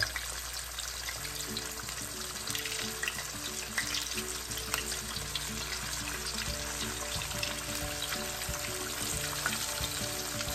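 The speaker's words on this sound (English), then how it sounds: "we're gonna drop a pork chop in and we're gonna start the frying" Pork chops frying in hot oil, a steady dense sizzle that runs alone and evenly throughout, close and fairly loud, with faint clinks and low background hum.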